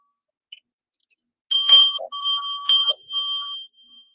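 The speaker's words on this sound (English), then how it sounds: "Ring the bell for the children." A small bell rung in quick bright bursts, two clusters of ringing with short decaying tails, clear and alone against silence.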